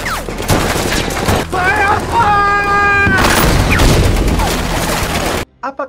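Dense battle gunfire in a World War film: rapid bursts of rifle and machine-gun shots crackle close and loud amid booms and shouting, cutting off abruptly near the end.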